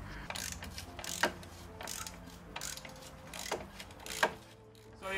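A hand ratchet turns 19 mm screws on a Nissan Patrol Y60 during radiator and bumper removal, giving quiet bursts of clicking with a few sharper snaps.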